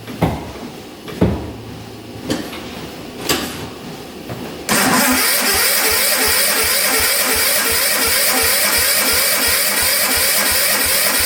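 A 1960s hydraulic 6x6 tank engine that sat unused for years is cranked with the throttle open for a compression test. Several short clunks come first, then a loud, steady, rapid rhythmic cranking chug continues to the end.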